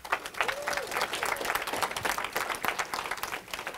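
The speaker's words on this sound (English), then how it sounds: "Big applause to you all." Conference audience applauding together, a steady dense wash of clapping that fills the room at moderate level throughout.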